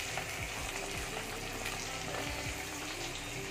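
Onions fry in a pan with a soft, steady sizzle and occasional stirring scrapes, faint and close without talking.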